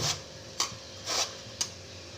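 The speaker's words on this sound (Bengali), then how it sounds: "আলুটাকে দেখো ভালো করে আমি গ্রেট করে নিলাম" A raw sweet potato is grated by hand, giving four short rasping scrapes in an uneven rhythm, close and fairly quiet, with brief pauses between strokes.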